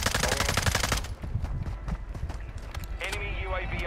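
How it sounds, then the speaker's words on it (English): Rapid bursts of enemy gunfire from a shooter video game, fired through a fence, crackling loud and dense over game noise while players talk. "He's shooting through the fence."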